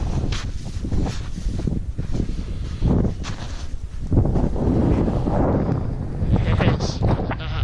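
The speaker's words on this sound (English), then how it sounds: "The wind's picked up now, ladies and gents. Probably around about 20 mile an hour gusts." Strong wind gusts buffet the microphone on a snowy moorland edge, a loud rushing roar that swells and eases in waves throughout.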